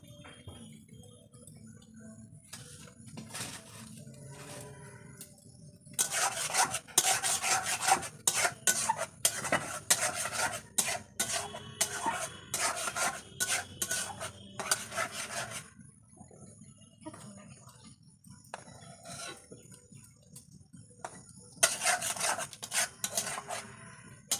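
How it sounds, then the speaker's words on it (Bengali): Raw mango paste being stirred and cooked in a wok at home, heard as a utensil scraping and rubbing against the pan in irregular rasping bursts, dense in the middle stretch and again near the end, close and moderately loud with no talk. "আমের যে মিশ্রণটা আমি পেস্ট করেছি সেটা আমি এখন কড়ার মধ্যে নিয়ে জাল জাল করে নেব"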